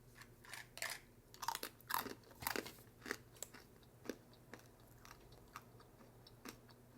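Someone bites into and chews a crunchy Made In Nature puffed dried cantaloupe snack. A run of close, crisp crunches comes first, then fades into quieter, sparser chewing with no talk.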